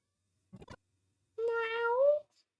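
A cat meows once, loud and close, a drawn-out tonal call after a short burst of soft rustling, followed by silence, with no one speaking.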